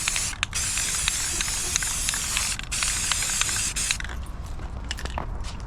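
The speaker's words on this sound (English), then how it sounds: "you want to use the cardboard, sun blocking the cardboard to protect the lights and stuff as you spray paint" An aerosol can sprays paint onto a fabricated push bar for a Honda ATV in short and long hissing bursts, close and loud, with faint clicks of the nozzle.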